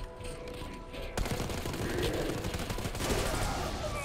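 Rapid automatic gunfire in Black Ops 6, a dense sustained fusillade of loud close shots after a brief quieter lead-in, with a voice talking over it.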